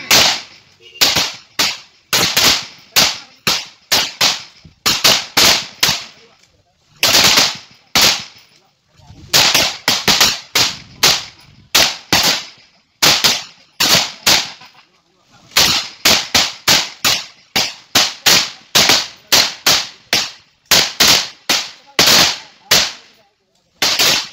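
Gunfire at a live-fire training drill on a range: loud, sharp shots in rapid strings and bursts with short gaps between them, going on throughout, with range commands called between volleys.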